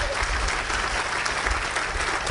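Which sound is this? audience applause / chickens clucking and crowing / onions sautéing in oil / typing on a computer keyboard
audience applause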